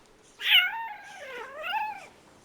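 A cat in a survival video game gives a drawn-out, wavering meow that rises into a grumpy growl, then a second whining call, close and clear against near silence.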